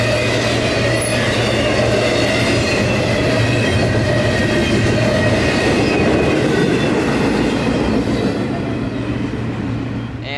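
A long southbound intermodal freight train rumbles steadily past at night in Wildwood, wheels clattering and grinding over the rails for the full stretch, loud and continuous.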